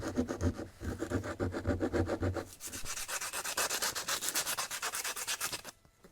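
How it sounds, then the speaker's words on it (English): Heavy-duty 80 grit sandpaper rubbed back and forth along a wooden tree-branch slingshot, close rhythmic rasping strokes that speed into a dense rapid scrubbing before stopping abruptly, with no voices. "today I'm going to try out just using sandpaper. This is some heavy-duty 80 grit sandpaper."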